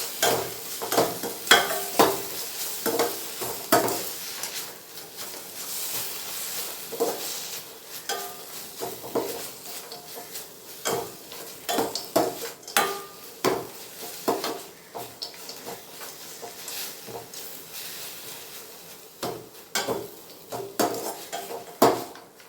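Mango rice being stirred and mixed in a pan, with repeated clanking and scraping of a spoon against metal over a light sizzle, irregular strokes close by and no voices.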